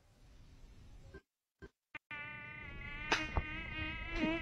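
Mosquito buzzing from a 1990s Indonesian TV advert for mosquito repellent: after a few sharp bursts and gaps, a steady, close, high-pitched whine with strong harmonics drones on, with a couple of brief clicks over it.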